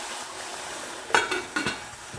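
Pepper dropped into a pot of tomato sauce, frying and splashing: a steady sizzle runs throughout, broken by a few sharp spattering pops and clinks near the end.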